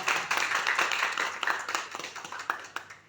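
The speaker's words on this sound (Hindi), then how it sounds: "उन्होंने कहा हमारे लिए तालियां बजवाओ" An audience in a private schools association gathering of teachers claps for about three seconds, a dense patter of many hands that thins and fades toward the end, moderately close with no talk over it.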